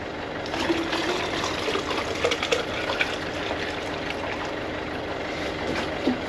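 Water from a sailboat's water maker pours and trickles steadily at close range, a continuous splashing flow with a few brief louder gurgles.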